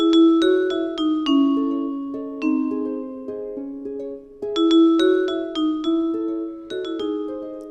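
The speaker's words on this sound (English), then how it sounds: "I got a harp and a bell." Plucked harp notes and ringing bell tones play a gentle melody together, overlapping and sustaining, clear and close with no voices.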